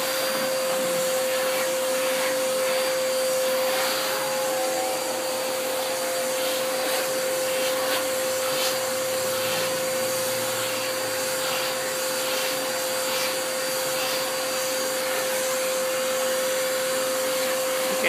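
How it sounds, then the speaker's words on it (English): A vacuum cleaner running continuously while vacuuming a pet, a loud, steady close roar with a high whine and slight rubbing variations, alone throughout. "You've been vacuumed."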